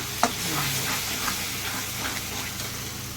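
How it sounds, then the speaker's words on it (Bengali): Whole large tomato paste going into spices frying in a pan, giving a steady broad sizzle with a soft crackle and a brief knock near the start, close and continuous with no talk. "এর মধ্যে আমি দিয়ে দিচ্ছি একটা গোটা বড় টমেটো বাটা"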